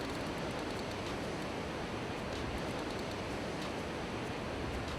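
Ocean waves washing onto the shore during light-tackle fishing, a continuous dense rushing hiss of surf and foam, steady and fairly loud with no voices.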